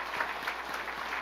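Church congregation applauding together, a steady wash of many hands clapping at even loudness throughout, with no voices over it.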